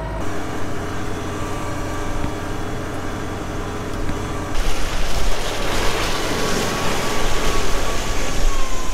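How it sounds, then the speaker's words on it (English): A tractor pulls up to clear snow, its steady low engine drone rumbling continuously, growing louder and rougher about halfway through as it draws nearer or works harder. "As I pull up here to do the last bit of snow removal that I have to do with the tractor here"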